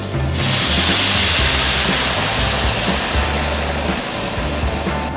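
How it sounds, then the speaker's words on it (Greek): Wine poured into a hot pot of browned onions, hissing and sizzling loudly in a steady broad wash that rises sharply at the start and holds, slowly easing off, with no talking. "σβήνουμε με το κρασί"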